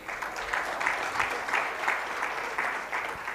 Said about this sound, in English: kindly let us give the PS a big round of applause